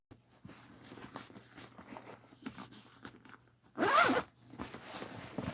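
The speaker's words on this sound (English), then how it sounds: "We did a zipper pocket" A recessed zipper on a modified net pocket is pulled once in a short, loud burst of rasping teeth, set against quiet background rustling and handling noise, with no talk.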